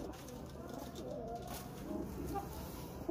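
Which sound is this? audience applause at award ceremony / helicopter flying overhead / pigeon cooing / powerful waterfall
pigeon cooing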